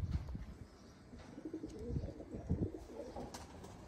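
Teddy pigeons cooing in a loft, a soft, low, continuous murmur of overlapping coos with faint rustling and a few higher chirps in the background.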